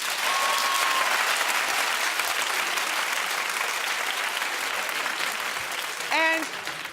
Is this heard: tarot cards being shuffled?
no